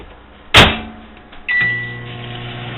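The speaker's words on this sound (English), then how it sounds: "Let's see what happens when we put them in the old microwave." An old microwave oven holding a mechanical pencil, a wooden pencil and a pen: a loud door clunk, then a short beep as a steady, close electrical hum starts and keeps running.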